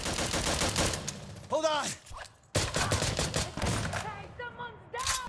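Rapid gunfire from an EBR marksman rifle in a shooter video game, dense bursts of close, loud shots with a short pause, set against battle noise, with a voice calling out briefly.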